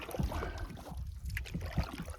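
Canoe paddle strokes through water, close and rhythmic, with splashy pulls repeating under wind noise outdoors.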